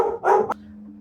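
A single dog barks close by in one short, sharp burst, followed by a faint low hum.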